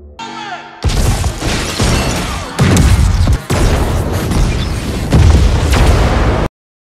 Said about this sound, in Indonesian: Ketika Elias terhubung dengan Zoe, tiba-tiba saja alarm berbunyi dan terjadilah ledakan yang menghancurkan pintu kargo.